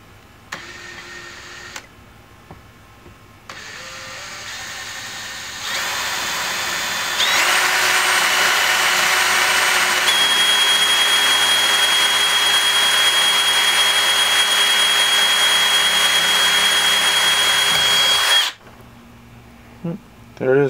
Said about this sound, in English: you drill just straight through it.